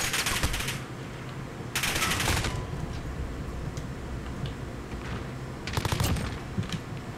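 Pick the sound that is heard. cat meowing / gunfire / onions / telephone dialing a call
gunfire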